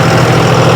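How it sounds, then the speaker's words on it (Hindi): A tractor engine runs with its PTO engaged to drive a rotavator in a sugarcane field, a loud, close, steady low-pitched drone with a rough mechanical vibration and no pauses. "और अब अपना ट्रैक्टर चलने लग गया।"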